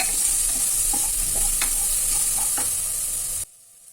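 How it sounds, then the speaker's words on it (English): Pink lentils fry in hot oil while being stirred, a bright constant sizzle with scraping spoon strokes over the pan, loud and close, cutting off abruptly near the end. "Fry for a couple of minutes like this."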